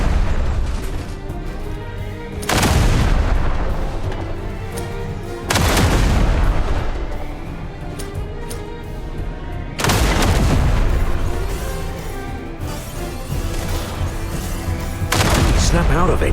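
Gunfire and explosions from the Duet Night Abyss video game arrive as four heavy booming blasts spaced a few seconds apart, each ringing out over a constant rumbling battle din, with voices heard in the background.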